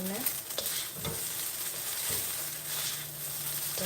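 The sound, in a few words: stir-frying cabbage and vegetables in a pan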